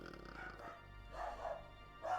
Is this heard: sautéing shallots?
no